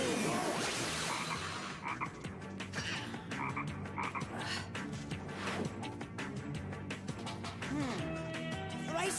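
Cartoon toad croaking loudly and repeatedly in a fantasy witch-coven scene, a dense, busy croaking chorus over music that runs the whole time.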